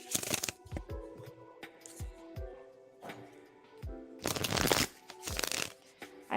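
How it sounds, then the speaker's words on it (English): Tarot cards shuffled in repeated riffling bursts, crisp papery flutters and soft slaps close by, with a longer, denser run of shuffling near the end. "I'm going to shuffle for you right now"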